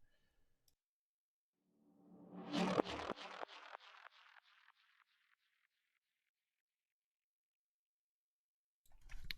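A single psytrance percussion one-shot rings out into a series of rapidly repeating delay-feedback echoes that fade gradually over several seconds, then a new sound starts.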